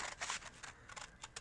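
Scissors cut construction paper, giving quiet, quick, crisp snips and rustles in an irregular run of several short cuts, close and faint, with no speech.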